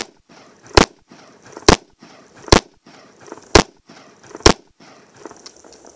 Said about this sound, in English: I'm going to shoot your revolver for you